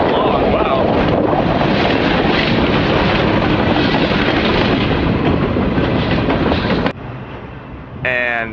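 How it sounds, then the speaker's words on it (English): A long train rolls past very close, a loud, steady roar of wagons with wind buffeting the microphone for about seven seconds before the noise suddenly drops away at the end. "This train is long,"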